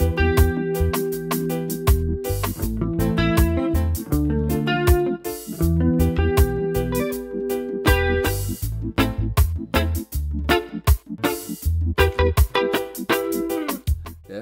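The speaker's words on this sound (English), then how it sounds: "so that's how the chorus sounds" Electric guitar runs through a chorus pedal in a compact gig rig, dense strummed chords and picked notes with a shimmering, doubled wash, loud and continuous with no talking.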